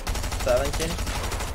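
Gunfire in Fortnite during a competitive duo cash cup match, a dense burst of rapid shots and impacts over game background noise, with a voice talking faintly underneath.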